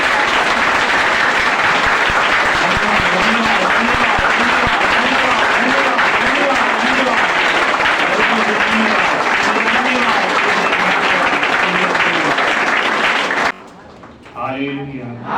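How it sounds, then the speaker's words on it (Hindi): A church congregation at a Good Friday service claps loudly and steadily, with people chanting and voices running through the applause before it cuts off near the end and a single voice is left. "जोर से ताली बजाकर प्रभु यीशु"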